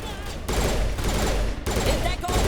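Rapid pistol gunfire from the video game Mass Effect, a steady burst of shots with sharp breaks between volleys, loud and close over a busy game soundscape.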